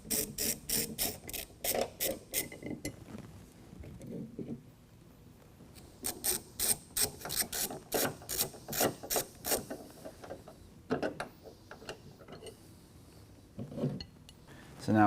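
A ratchet with a T50 bit backs out the bolts on a 2022 Ford Bronco's tailgate hinge, in fast bursts of crisp clicking separated by short pauses, close up and with nobody talking.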